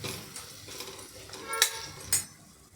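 Guava pieces sautéed with chili powder and black masala in a pan: soft, close scraping and clattering from a spoon, with two sharper metallic clicks near the end.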